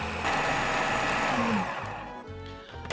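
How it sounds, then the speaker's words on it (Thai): A kitchen blender whirs loudly and continuously as it grinds pesto with parmesan cheese, its motor pitch shifting slightly before winding down near the end. "ปั่นจนกระทั่งมันละเอียดเลย"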